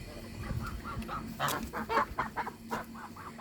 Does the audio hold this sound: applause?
no